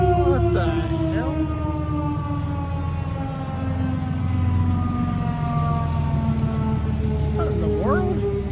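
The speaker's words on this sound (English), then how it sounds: "I'm hoping that was just a test that I didn't know about for a tornado siren." An outdoor tornado siren wails steadily and loudly in the distance, its long sustained tone holding with slow pitch sweeps at the start and end. Brief voices and traffic noise are mixed in.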